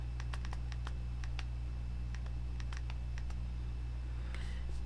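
A BlackBerry Storm's touchscreen is pressed down to type, giving a string of soft, irregular clicks, close and faint over a steady low hum, with no talking.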